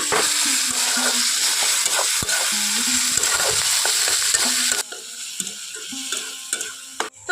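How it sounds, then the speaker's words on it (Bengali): Tomato frying in oil with salt for a Bengali fig and prawn curry, stirred in the pan: a close, steady sizzle with repeated scraping and knocking of a spoon, quieting near the end before a final clank. "লবণটা দিয়ে টমেটোটা ভাজলে খুব তাড়াতাড়ি তেলের মধ্যে সেদ্ধ হয়ে যাবে"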